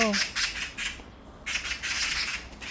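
Magpie parents squawk in loud, harsh bursts over a chick that fell from a tree, a rapid series of raucous calls with a short gap before they resume.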